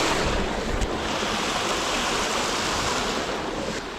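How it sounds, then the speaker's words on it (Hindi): A waterfall in Meghalaya roars as a steady, loud, broadband rush of falling water that fills the whole stretch without pause. "दिस इज़ द वाटरफॉल जिसके बारे में जिक्र कर रहा था"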